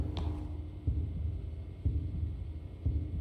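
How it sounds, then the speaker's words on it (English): A video-game floor tile gives off a heartbeat, with low, deep thumps about once per second under a faint steady hum. "We've got a tile that's giving us a heartbeat."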